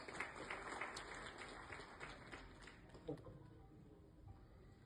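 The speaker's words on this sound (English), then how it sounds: "Please welcome with a huge round of applause." Steady applause from an audience at a formal medical gathering welcoming a distinguished guest to the dais, continuous and fairly even throughout with a faint bump near the middle.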